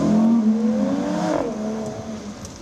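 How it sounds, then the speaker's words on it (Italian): Car engines roar together at a funeral farewell, a loud sustained drone with rising revving tones that slowly ease off, close and steady with no talk. "È il rombo dei motori"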